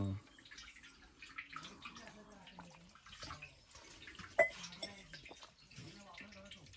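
Cold water trickling and dripping steadily in a Konkan village setting, a soft continuous patter with occasional sharper drips under people talking nearby.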